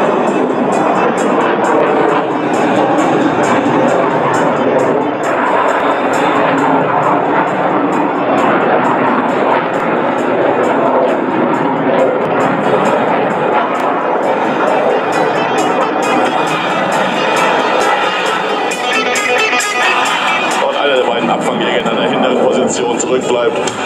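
A Eurofighter Typhoon and a Panavia Tornado fly at the ILA 2016 air show, their jet engines making a loud, continuous roar with no break, while a commentator talks over it.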